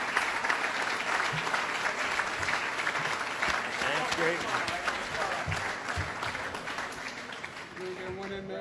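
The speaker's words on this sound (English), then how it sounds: "give them a big round of applause" An awards-ceremony audience claps steadily for a whitewater rafting team, with cheers and a few voices mixed in. The clapping continues for about eight seconds before easing off.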